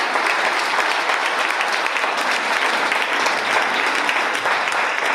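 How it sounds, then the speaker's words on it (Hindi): A large session audience claps warmly to welcome new members, a loud, continuous, evenly sustained roar of applause with no break throughout. "हमारे नए सभी साथियों के लिए दिल से तालियां बजाएंगे"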